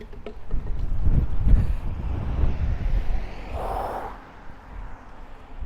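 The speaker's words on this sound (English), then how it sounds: "It's bloody windy." Strong wind buffets the microphone in low, rumbling gusts that swell and ease, with a brief hissing whoosh near the end, outdoors in Puerto del Carmen, Lanzarote.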